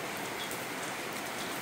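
Heavy rain pours steadily outside an automobile workshop that makes tyre machines, a dense, even hiss with no gaps and no voices.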